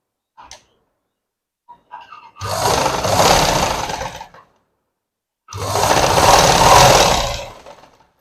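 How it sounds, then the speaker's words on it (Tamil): A sewing machine stitches folded pant fabric for a gathering pant in two loud, close bursts of about two seconds each, separated by silence, with faint handling clicks before. "இப்போ இதே மாதிரி மடிச்சு தைப்போம்."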